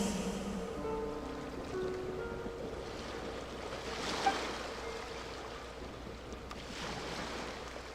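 Ocean waves wash steadily in Genshin Impact, a continuous soft roar of surf with gentle swells and a breezy hiss, no voices over it.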